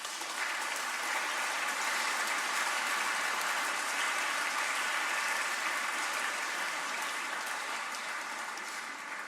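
A lecture audience claps at length after a talk, a broad continuous patter of many hands at a fairly distant, steady level with no voices breaking through.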